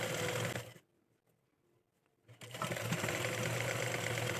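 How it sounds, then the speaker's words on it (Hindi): A sewing machine stitches along the bottom of a blouse belt fabric, running in a loud rapid burst, stopping for over a second, then starting up again and running steadily to the end. "बेल्ट के बॉटम में भी हम एक सिलाई लगा लेंगे।"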